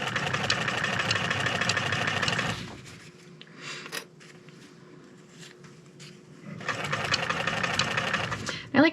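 A sewing machine stitches the hide edge and fabric lining of a fur bomber hat, running in a steady rapid whir. It pauses for a few quiet seconds of handling noise, then runs again.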